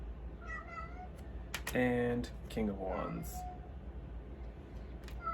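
A domestic cat meows at a door, a couple of short nearby calls that come right after a person speaks, set against a quiet room.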